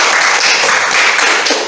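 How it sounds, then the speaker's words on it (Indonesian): Students in a seventh-grade Islamic history classroom break into dense, loud clapping that stays even and continuous for the whole stretch, filling the room without pause. "Oke, tepuk tangan dulu."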